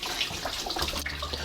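Coolant draining from a loosened water pump on a 1974 Leyland Mini, a close steady trickling and splashing of liquid.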